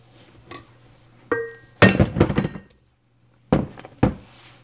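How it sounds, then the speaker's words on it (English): A ball peen hammer striking a jammed flywheel on a small engine, several sharp metallic blows in irregular bursts with ringing clinks and short rattles, close and loud against a quiet workshop hum. "This has to be taken off with a hammer."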